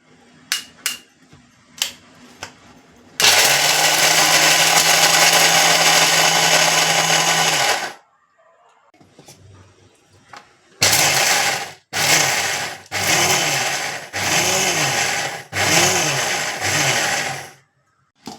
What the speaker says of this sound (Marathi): आता काय करते, हे सगळं मी मिक्सरला वाटून घेते.